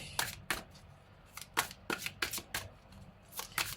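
A deck of oracle cards is shuffled by hand during a card reading. Soft, quick riffling bursts come in an irregular rhythm, close and fairly quiet, with short pauses between them and no talking.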